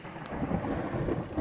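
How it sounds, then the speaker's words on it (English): Heavy pouring rain with rumbling thunder directly overhead at a rural home on Legion Road, a steady loud wash of rain filling the whole stretch. "And you get to our place and it's pouring rain."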